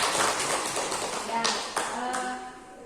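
Classroom students clap together for a classmate, a short burst of sharp, close claps with a few distinct louder hits, while a voice speaks briefly over them.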